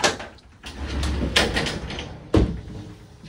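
Glass shower door in the bathroom of a 2023 DRV Mobile Suites 39DBRS3 RV, sliding and shutting close by: a soft rolling glide, a muffled bump, then a sharper knock near the end, with no talking.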